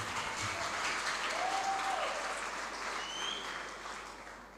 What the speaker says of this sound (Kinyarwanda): Abaneze reka dukomere Yesu amashyi.